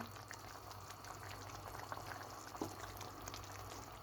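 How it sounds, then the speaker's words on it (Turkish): Thick homemade spicy tomato sauce simmering in a pot, a low steady bubbling hiss with faint soft pops, quiet and continuous throughout. "Domates de bayağı bir kaynadı, suyunu çekti."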